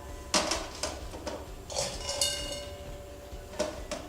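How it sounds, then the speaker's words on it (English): Brussels sprouts being arranged on a metal sheet pan, a series of close clattering knocks and ringing metallic taps at irregular intervals, each with a short bright resonance. "So then we're gonna take this sheet pan and just arrange them"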